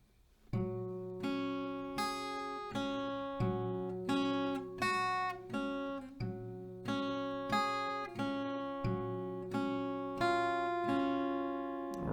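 An acoustic guitar slowly plays a song's fingerpicking pattern, with single plucked notes ringing over each other in an even, repeating rhythm, clear and close with no voice.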